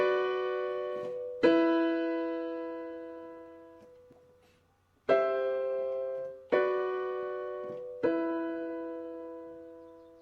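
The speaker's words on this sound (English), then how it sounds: "the strummed chords" Strummed guitar chords ring out clean and fairly quiet, four separate strums each left to sustain and fade slowly before the next.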